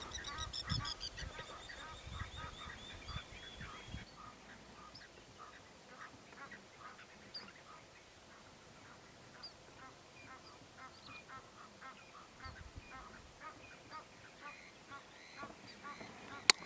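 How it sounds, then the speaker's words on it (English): Egyptian geese honk repeatedly at a distance, loud harsh calls early on, then scattered fainter honks continue against a quiet outdoor background in the Manyeleti reserve. "Ever-present Egyptian geese making their noise to the left here."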